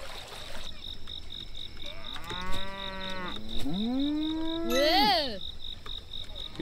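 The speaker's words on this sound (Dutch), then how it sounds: "Hier zijn we met die koeien." Cartoonish cows in a Shin Chan video game let out several drawn-out moos, rising and falling, over a steady high insect-like chirp and soft ambient background.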